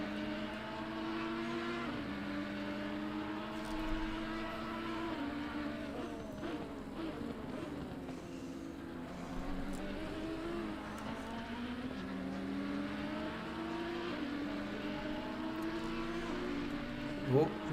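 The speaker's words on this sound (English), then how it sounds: "Listening to that V10 just downshifting." A V10 race car in a PS5 racing game chasing a Ferrari at Zolder, its engine note stepping down through repeated downshifts and climbing again, steady and loud throughout, with a commentator talking over it.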